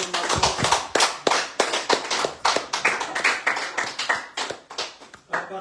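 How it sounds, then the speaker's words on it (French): A church congregation claps together in a sharp, rhythmic beat, loud and close, with regular bursts of hand claps repeating for several seconds and no talking over them. "Nous applaudissons encore le roi des rois"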